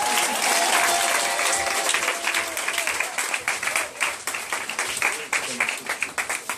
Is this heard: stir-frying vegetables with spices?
no